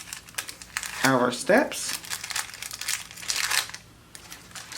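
Sticker paper sheets crinkle and rustle as they are handled and cut, close and fairly loud, with a voice speaking briefly over the crinkling.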